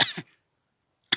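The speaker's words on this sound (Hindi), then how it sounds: "लगातार बोलने से यहाँ पे देखिए खांसी आ गई है" A person coughs sharply twice in quick succession, close and loud, then falls silent before another short cough-like burst at the end.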